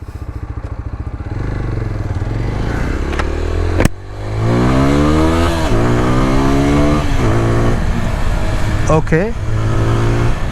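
A 2026 TVS Apache 160R motorcycle engine in sports mode, idling and then revving hard several times with rising pitch sweeps toward high RPM, loud and close, with a brief spoken word.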